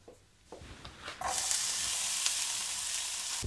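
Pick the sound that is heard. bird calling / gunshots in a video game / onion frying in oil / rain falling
onion frying in oil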